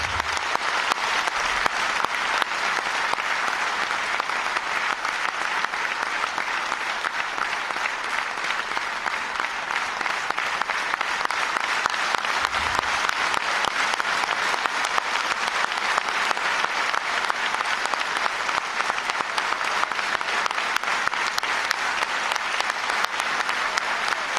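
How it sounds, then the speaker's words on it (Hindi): Loud, sustained audience applause fills an auditorium in Jaipur at an honour ceremony, a dense steady wash of clapping from a large crowd that continues for the whole stretch without pause. "एक बार इतनी जोर से ताली बजाइए कि मोदी जी तक इनकी गूंज पहुंच जाए।"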